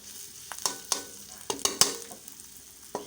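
Pork larb dry-roasting in a pan, Kamphaeng Phet style: soft crackling sizzle punctuated by a handful of crisp, close spatula scrapes and taps spread irregularly across a few seconds.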